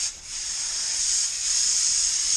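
Compressed air hisses steadily from a compressor hose, a loud continuous high-pitched rush without break.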